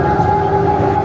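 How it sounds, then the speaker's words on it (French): An ambulance siren sounds at the scene of a Tour de France crash, a steady wailing tone held loud and continuous over road noise. "Très vite, une ambulance arrive sur les lieux."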